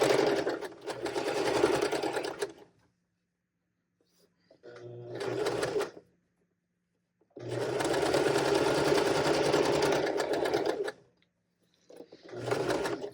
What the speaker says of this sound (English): I'm just going to sew directly on top of my previous stitching to make things really sturdy.